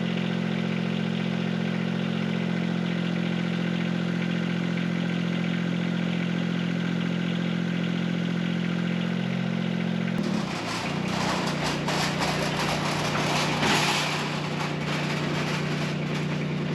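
Tractor engine idling nearby, a steady low rumbling drone that turns rougher and louder with clattering partway through.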